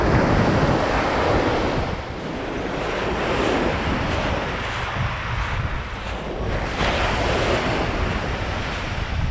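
Choppy sea waves break and wash continuously at Durdle Door on the Dorset coast, a loud, steady roar of surf with wind buffeting the microphone throughout.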